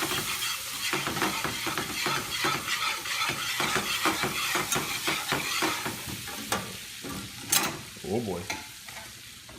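A thickening, clumping mixture is stirred in a sizzling pan for a healthy keto dish, with a steady run of scraping, clinking spoon strokes over frying hiss, close and fairly loud; a voice speaks briefly near the end.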